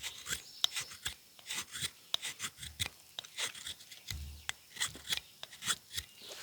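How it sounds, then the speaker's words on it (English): Knife blade shaving small curls from wet fatwood, a close, steady run of rasping scrapes and rubs repeated in short strokes, with no talking. "I'm just gonna try to make a few more little bitty curls"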